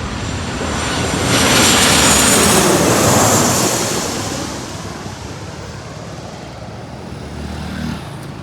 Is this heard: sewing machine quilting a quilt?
no